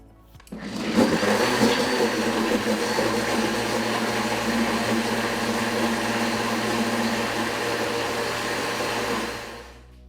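A blender blending vegetables for a smoothie runs steadily at high speed for about nine seconds, a loud continuous whirring that starts abruptly and winds down at the end.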